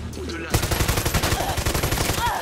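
Rapid automatic gunfire from a weapon in Far Cry 6, a burst of close, loud, evenly spaced shots starting abruptly and continuing in a fast rhythm to the end.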